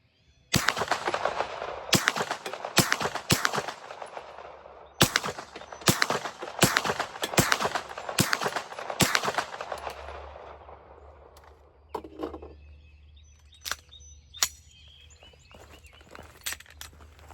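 Sharp, loud gunshots from a P365 XXL pistol fitted with a Maskas Precision slide, fired at a range in two quick strings of about seven or eight shots each, with brief pauses, then sparse clinks and handling noises after the firing stops.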